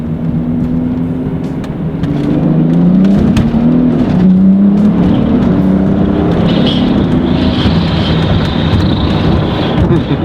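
BMW X3 35i SUV tuned with VRSF parts and an intake pulls hard in second gear, its engine note rising steadily as it revs, loud and close, with wind rush building behind it and no talk over it.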